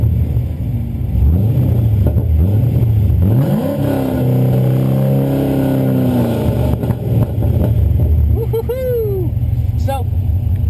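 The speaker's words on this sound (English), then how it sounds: "So long tube headers, X-pipe, and an axle back gives us this great sound." A Corvette C6 with long tube headers, an X-pipe and an axle-back exhaust revs loudly and close by, its rumbling idle rising and falling through several throttle blips.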